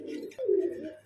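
Pigeon cooing up close, a low rounded coo that swells in the middle and fades, alone with no talk; a yellow pigeon is among the birds kept here.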